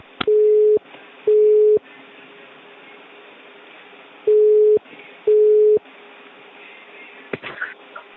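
On-hold tone during a telephone call: four identical steady beeps, sounding in two pairs, come loud and clear over faint line hiss, with a short click near the end.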